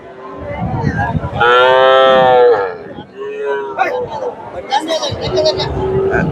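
A cow at the large Chandaikona cattle market in Sirajganj lets out one long, loud moo close by, surrounded by the chatter of buyers and sellers haggling.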